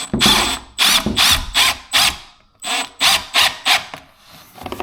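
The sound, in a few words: screw being driven into rustic wooden window trim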